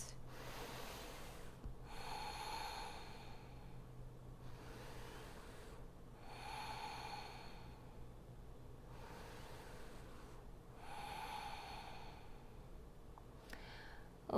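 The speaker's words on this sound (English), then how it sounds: "We're going to take 3 deep breaths." Slow, deep breaths come from a person in a seated yoga posture. There are about five rhythmic inhales and exhales, close and quiet, with soft airy rushes separated by short pauses.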